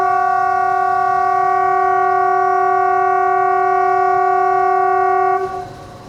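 A meter gauge train horn sounds a long, loud, steady multi-tone blast while departing through Gir Forest on the Junagadh to Veraval line, ending abruptly into rumbling running noise.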